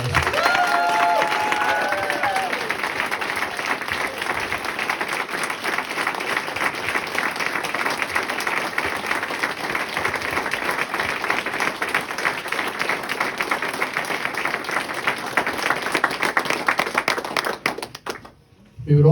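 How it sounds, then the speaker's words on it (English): Sustained applause from an audience at a dedication ceremony fills the room, a dense steady clapping that carries on for most of the stretch before tapering off near the end. "Let us all give Brad another well-deserved applause."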